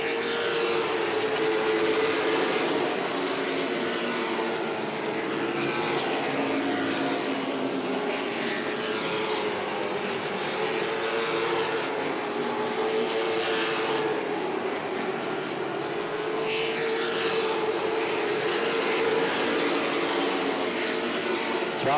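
Late model race cars roar around Langley Speedway, a loud, continuous engine drone that swells and fades as cars pass along the back straightaway.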